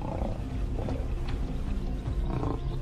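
A young wild lion gives low, rumbling roars near a vehicle in the bush, heavy and close, in two main bursts over a constant background rumble.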